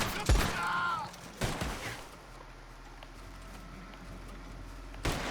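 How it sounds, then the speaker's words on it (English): Gunfire in a video game, with a sharp shot and rattling burst near the start, then scattered fainter shots and a final crack near the end, while a horse stands close by. "whenever someone starts shooting at even close to the horse"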